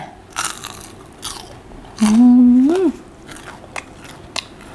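Crispy fried pork belly, cooked in fish sauce, is bitten into with a few crunchy bites close up. A sustained hum overlaps the middle of the clip.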